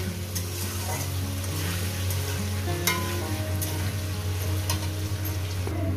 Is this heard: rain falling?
no